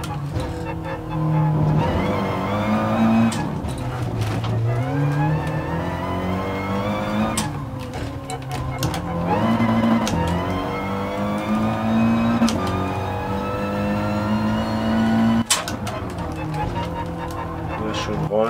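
An Audi TT Cup car laps the Nordschleife in GT Sport, its engine revving up through gears in repeated rising sweeps with sharp shift breaks, loud and close, with talk over it.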